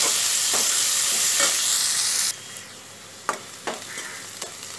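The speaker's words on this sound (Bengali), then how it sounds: "এবার কুচি করে রাখা পেঁয়াজটা আমি দিয়ে দিচ্ছি।" Chopped onion dropped into a hot pan, a loud bright sizzle for about two seconds that suddenly drops to a quieter fry, punctuated by a few sharp stirring knocks.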